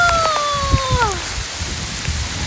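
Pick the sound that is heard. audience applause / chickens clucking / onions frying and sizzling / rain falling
rain falling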